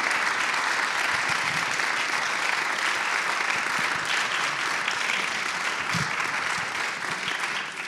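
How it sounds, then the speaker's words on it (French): Steady, sustained applause from a crowd, dense clapping that holds at an even level throughout. "Un grand applaudisse pour les traductrices."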